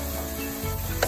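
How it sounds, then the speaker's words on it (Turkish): Oil sizzles steadily in a pan as onions fry, a close, continuous crackling hiss over a brief moment. "soğanlar çok güzel kızarması gerekiyor arkadaşlar, yağ ile birlikte"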